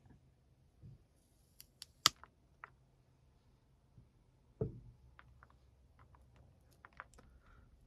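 Shears cut through the roots of a ginkgo bonsai during repotting, giving a few sharp isolated clicks and snips, with one louder crunching cut midway, in an otherwise quiet room.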